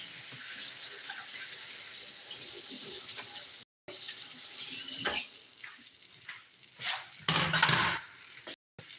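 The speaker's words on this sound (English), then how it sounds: "Rinse my cutting board." Tap water runs steadily into a kitchen sink while a cutting board is rinsed after a bowl is washed, a continuous splashing hiss with brief shifts in flow and short pauses.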